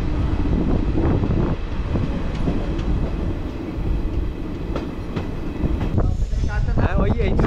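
The Kolkata–Digha special passenger train rumbles loudly and continuously with rail clatter and cabin noise, heard from on board and close, with no pause.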